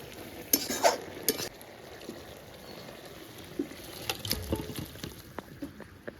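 Bottle gourd and prawn curry with a little cumin powder being mixed in the pan, soft scraping and clinking of a spoon in short irregular bursts over a quiet, low simmer.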